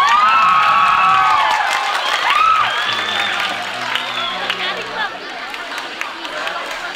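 A crowd of children and adults cheers, shouts and claps at the closing of a 2023 Catholic archdiocese jamboree in Pontianak, loud at first and then tapering off into scattered voices and chatter.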